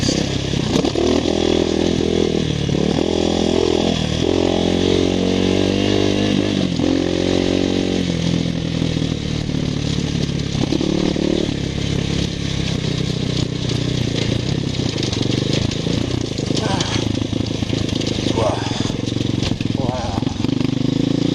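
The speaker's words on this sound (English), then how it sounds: "sit down on the bike and ride through the rough." A Mototec X5 250 dirt bike runs loud and close over rough terrain during a shock test with a remote reservoir fitted, its engine revving up and down with rising and falling pitch throughout, while a voice talks over it.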